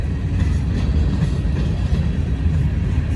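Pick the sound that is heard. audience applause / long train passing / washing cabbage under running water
long train passing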